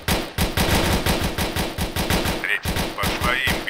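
Rapid bursts of automatic machine gun fire in the ARMA 3 combat game, loud and close, a steady rattling rhythm of shots with a brief gap near the middle before the firing resumes.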